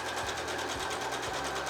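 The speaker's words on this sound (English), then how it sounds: "press a foot down and sew" A sewing machine stitches along a folded fabric edge for an Easter basket handle, a steady close whirring hum with a rapid regular pulse of needle strokes.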